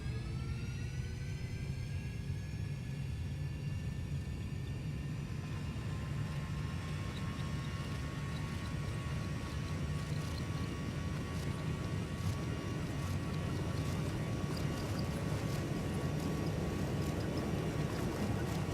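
Flight simulator airplane engine throttling up for takeoff, a steady loud drone with rising whine tones climbing in pitch over nearly twenty seconds, continuous and close.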